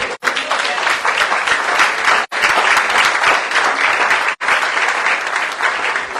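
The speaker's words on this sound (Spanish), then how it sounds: "Denle un aplauso al Rey bendito." A church congregation applauds during a sermon, producing dense, loud, sustained clapping from many hands that fills the space continuously, broken only by a few very brief gaps.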